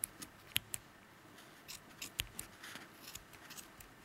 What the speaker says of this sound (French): On va venir prendre ici au milieu tous nos brins de laine et les découper à la moitié.